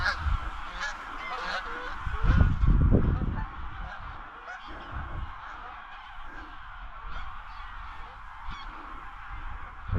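A flock of Canada geese honks repeatedly at dawn during an August goose hunt, calls overlapping near and far, with a louder burst of honking early on and steady scattered honks throughout.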